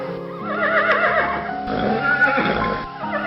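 Donkey braying loudly in an animated children's story, a harsh wavering honk that rises and falls in pitch, repeated across a few seconds with no talking.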